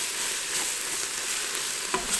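Flour being stirred into sautéed onions in a pot for French onion soup, a soft continuous sizzle with faint scraping of the spoon and one brief knock near the end.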